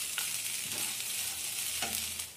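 Sabudana and salt being stirred in a pan over a constant hissing sizzle, with a few soft spoon scrapes rising and fading.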